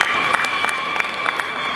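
An audience of university students at a political conference applauds, a steady, fairly faint wash of clapping with a few sharper claps standing out and a thin constant tone running underneath.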